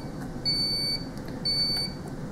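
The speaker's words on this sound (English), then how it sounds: "mute the alarm" Maquet Rotaflow ECMO console alarm beeping in two evenly spaced high-pitched tones, each about half a second long, loud over a low steady hum of the console.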